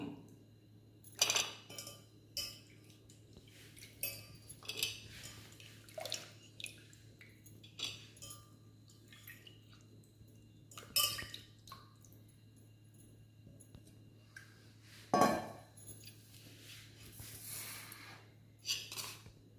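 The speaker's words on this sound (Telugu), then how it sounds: "ఇది గిన్నెలో వేసుకుందాము" Watermelon paste for a homemade plant fertilizer is scooped into a bowl. Faint, sparse clinks and scrapes of a spoon against the dish stand out over a quiet, hushed background, with a few wet drips between them.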